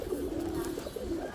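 A caged male pigeon gives a low, steady cooing call close by, with a slight wavering over a second or so.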